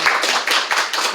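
A church congregation claps in welcome for visiting elders, a short burst of loud, dense hand clapping from many people close by, with no talk over it.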